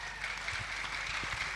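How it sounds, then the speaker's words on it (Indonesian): A crowd at a public gathering in Probolinggo gives faint, distant applause as a steady wash of clapping that lasts the whole short stretch. "tepuk tangan untuk semua yang hadir"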